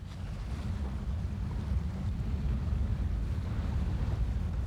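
Windsurfer sailing on open water, with a steady loud rush of wind buffeting the microphone over continuous low water and wave noise, no voices.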